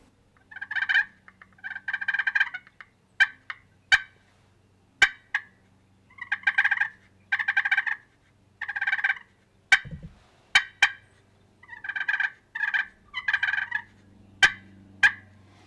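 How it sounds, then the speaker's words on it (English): A handheld slate turkey call worked to make soft clucks and rolling purrs, with short bursts of scratchy calling repeated in bunches, sharp single clucks in between, close and alone without speech. "You can take that slate and do that clucking and purring."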